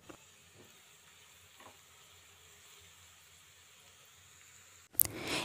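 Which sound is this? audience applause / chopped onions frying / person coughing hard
chopped onions frying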